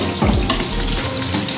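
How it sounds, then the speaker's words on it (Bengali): Catla fish fries in hot oil with a steady, dense sizzle, and a brief stirring scrape sounds near the start; no voices are heard. "এখন আমি এই মাছটা ভাজা অবধি থাক"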